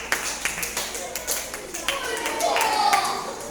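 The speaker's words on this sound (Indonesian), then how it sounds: "Tepuk tangan untuk kelompok 4." Children in a classroom clap for a group presentation, producing irregular, moderately close hand claps with some chatter and room noise mixed in.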